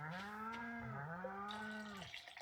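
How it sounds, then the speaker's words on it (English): Cattle moo in Stardew Valley, two or three drawn-out, close, bending lowing calls following one another at moderate volume during milking. "we'll go and give our cows a pet and a milk"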